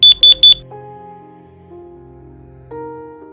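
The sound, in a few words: care alarm beeping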